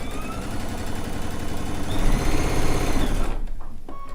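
A sewing machine chain-stitches pieced fabric for a stone log cabin quilt, running in a fast, continuous, loud mechanical rattle up close before stopping abruptly just before the end.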